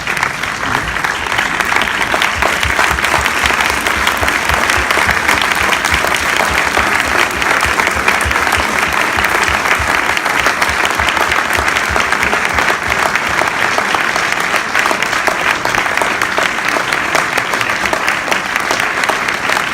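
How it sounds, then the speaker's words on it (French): A standing audience claps together in sustained, dense applause that carries on evenly and loudly throughout, with no voices rising above it. "Si vous pouviez, pendant 10 secondes, vous lever et applaudir."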